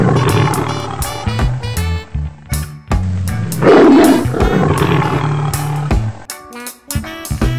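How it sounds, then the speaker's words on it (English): A tiger roars in several deep, rough bursts, loud and close, with no talking over it. "Tiger,"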